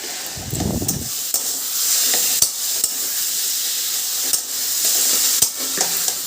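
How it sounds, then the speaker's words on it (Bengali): Taro leaves fry in a pan with a steady, bright sizzle, broken by a few scraping stirs of a spatula and a short low clatter near the start; no talking. "তা দেখো কচুর শাকটা ভালো করে নাড়াচাড়া করে আমি রসটা কিন্তু মরিয়ে নেব।"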